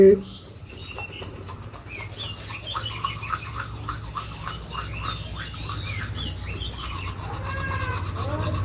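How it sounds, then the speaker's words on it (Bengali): Teeth brushed with a toothbrush make a steady, close scrubbing rasp for several seconds, with bird chirps in the background and a voice briefly at the start. "আমি এলাম এই যে ব্রাশ করবো ব্রাশ ট্রাশ করে নিই"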